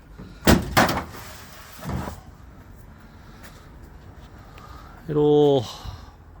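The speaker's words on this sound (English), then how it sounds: "Most of the doors open okay" Doors on an old Datsun 1200 open and shut in a couple of sharp metallic clunks followed by a fainter thud, against quiet outdoor background, then someone talks briefly near the end.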